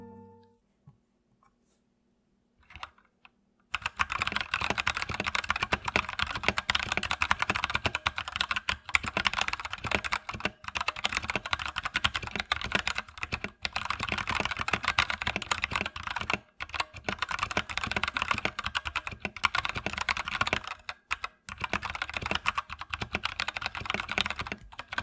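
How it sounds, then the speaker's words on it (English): Typing on an Akko 3068 Silent Bluetooth 5.0 mechanical keyboard: after a few seconds of near silence, continuous rapid keystrokes run for about twenty seconds, close and muted, with brief irregular pauses. "let's take a listen to how this keyboard sounds"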